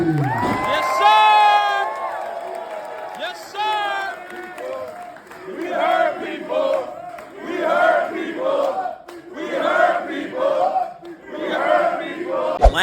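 A wrestling crowd at a live match cheers and chants in loud, rhythmic waves, with a few high whistles and shouted whoops at the start, filling the arena continuously.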